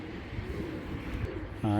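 Pigeons in a loft coo in low, soft rumbling notes that blend into a murmur, with one louder coo rising near the end, close by.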